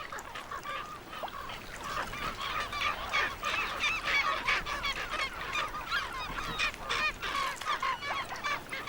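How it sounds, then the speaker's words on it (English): Gulls squabbling over leftovers on an Antarctic beach near a leopard seal, a dense chorus of harsh overlapping calls, close and loud, continuing throughout with no speech. "it's disturbed by gulls quarreling over the last leftovers"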